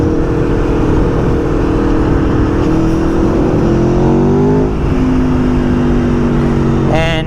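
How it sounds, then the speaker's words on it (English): A 2022 Aprilia Tuono V4 Factory motorcycle crossing the Sydney Harbour Bridge, its V4 engine droning loud and steady with wind rush, pitch rising and dipping through gear changes as the rider talks over it. "This is the last crossing of the Sydney Harbour Bridge on the Aprilia Tuono."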